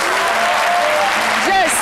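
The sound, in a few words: studio audience applause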